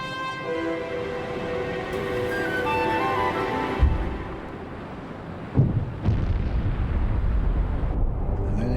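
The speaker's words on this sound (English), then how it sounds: "no sooner did they dive and the depth charges are going off" Depth charges exploding underwater during the Pearl Harbor attack: a sustained low rumble with two heavy booms, loud and close, under a droning tone, with no talk.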